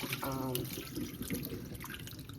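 Water poured off stewed kidney pieces through a strainer, a steady close splashing and trickling stream that runs throughout.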